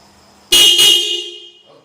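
Aftermarket car horn fitted to a Yamaha Mio scooter blares once, very loud and close. A short double-pulsed stab rings out into a sustained tone that fades over about a second.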